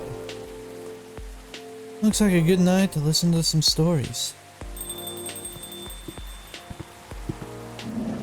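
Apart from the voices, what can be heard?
rain falling in the video game Coffee Talk 2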